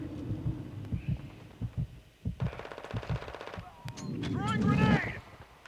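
Rapid automatic gunfire bursts from Call of Duty: Modern Warfare 2 on the Shoot House map, a sustained rattling stream of shots in the middle, mixed with game effects and player voices talking over the action.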